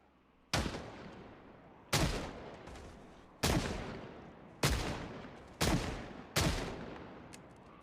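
Six gunshots in a video game, each a sharp loud crack with a long decaying echo tail, spaced roughly every second or so with no talking.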